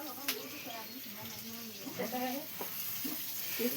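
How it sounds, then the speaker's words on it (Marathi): Chillies frying in a pan over a wood-fired stove at home, a steady sizzle with faint stirring scrapes, while people talk nearby throughout. "मिरच्या तळायचं काम चाललंय"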